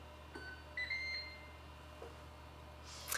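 A sous vide cooker used to pasteurize eggs gives a few short, faint electronic beeps in a quiet room, set well apart from one another.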